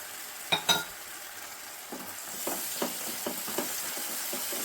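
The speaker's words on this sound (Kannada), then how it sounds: "ನೋಡಿ, ಕೈ ಬಿಡದೆ ಒಂದು 4 ರಿಂದ 5 ನಿಮಿಷ ಚೆನ್ನಾಗಿ ಲೋ ಫ್ಲೇಮಲ್ಲಿ ಆಡಿಸ್ಕೊಬೇಕು" Banana halwa cooks in ghee in a pan over a low flame while a spoon stirs it, giving soft sizzling and a few scraping strokes against the pan, quiet and close with no talking.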